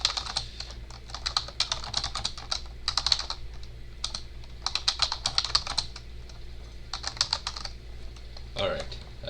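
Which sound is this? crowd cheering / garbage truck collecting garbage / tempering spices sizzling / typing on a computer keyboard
typing on a computer keyboard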